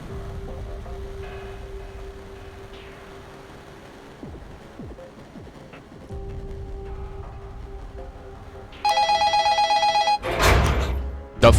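A telephone rings in the video game Magical Girl ER, a bright repeating electronic ring entering near the end over a soft ambient game background, loud and without talk.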